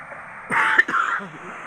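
A sick person with fever and a cold clears their throat and gives a short cough, a single rough burst up close in an otherwise quiet room.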